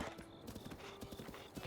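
Horse hooves clip-clop in a steady trotting rhythm while riding across open terrain in the video game The Legend of Zelda: Breath of the Wild, close and moderately loud with a brief whinny.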